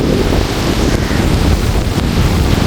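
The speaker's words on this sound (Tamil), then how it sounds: "இங்கே பாருங்க அலையண்டா பயங்கரமான அலைகள்" Huge sea waves crash on the coast at Jaffna in strong, swirling wind and rain, forming a loud, unbroken roar of surf with heavy wind buffeting the microphone throughout.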